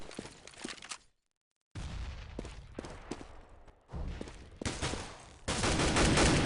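Rapid gunfire from a competitive Counter-Strike match between NiP and Mouz, loud bursts and fusillades of shots in several clusters with a brief silent gap, no talk over it.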